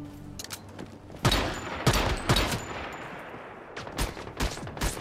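Gunfire in the video game Once Human: bursts of shots, a sparse crack near the start, then a rapid cluster of loud blasts from about 1.3 to 2.5 seconds and more scattered bursts toward the end, with no one talking.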